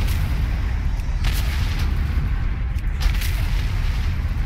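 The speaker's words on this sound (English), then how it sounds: "Okay, so I used the big bomb for the big dudes." Big bombs explode in World of Warcraft: Battle for Azeroth during a Mag'har Orc questline battle, heard as a dense, loud rumbling barrage with a few sharper bursts standing out over the continuous low roar, with no talk.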